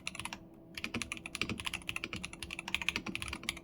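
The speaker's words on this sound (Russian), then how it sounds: "Не хочу врать, но этот тайпинг выглядит самым тихим среди магниток." Rapid, steady typing on a Mchose JET75 keyboard fitted with Kailh Magnetic God magnetic switches: close, soft, muted keystrokes in a quick continuous run with no talking.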